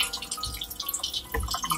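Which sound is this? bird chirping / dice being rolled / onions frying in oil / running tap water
running tap water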